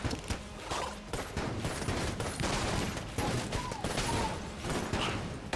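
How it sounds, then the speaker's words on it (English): Rapid bursts of gunfire from the flare gun in the bullet-hell game Enter the Gungeon, dense and continuous with repeated sharp shots layered over game noise, close and fairly loud throughout. "I'm just gonna keep using the flare gun"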